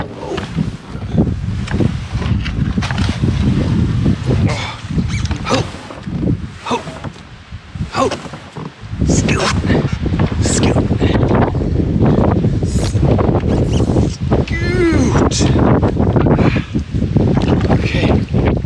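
Wind gusts buffet the microphone continuously while canoeing on a lake, a loud broadband rush with occasional paddle or water sounds beneath it and no talking.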